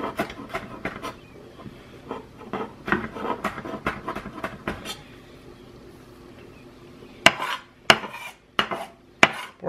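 A knife chops fresh cilantro on a cutting board with wet hands, the blade striking in quick irregular taps, then a few sharper, louder knocks toward the end.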